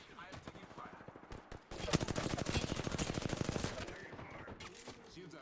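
Rapid bursts of automatic gunfire from enemies in a video game, loud and dense, with a sustained stretch of fast repeated shots in the middle under a faint voice.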